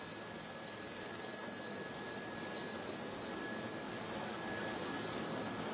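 An airplane landing on an airport runway gives a steady, fairly faint broadband engine roar with a thin sustained whine that stays even throughout, with no voices.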